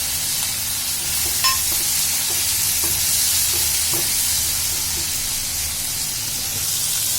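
Vegetables and corn for corn pulao sizzling as they are stir-fried in a pan over high heat, a constant hissing fry with soft, scattered clicks of a spatula moving through them.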